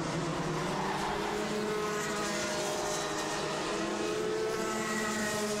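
Rotax Max Light racing karts in a national sprint championship final, exiting a corner over ripple strips; a steady, loud layered engine drone from several karts continues without break and with no talk.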